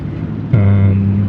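Aircraft engines spooling up for takeoff on a snow-covered runway in Microsoft Flight Simulator 2020, a steady loud droning hum that kicks in abruptly and holds without letup.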